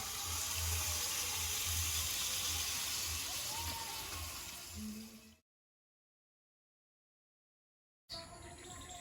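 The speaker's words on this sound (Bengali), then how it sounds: "আলু পেঁপে আর মাংসটা দিয়ে দেবো এবার জল দিয়ে দেবো" Tap water runs steadily into a pot holding potatoes, papaya and chicken for a curry, loud and continuous for about five seconds before cutting off, then resuming briefly.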